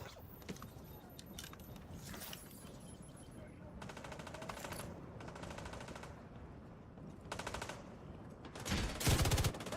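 A light machine gun fires in The Division 2 third-person cover shooter, with repeated rapid bursts over a dense backdrop of combat noise and a loud final burst.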